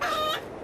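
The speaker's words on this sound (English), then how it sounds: "you will have to get used to the local roosters" A local rooster on the Rangiroa atoll crows nearby, one loud, brief crow that fades within a second.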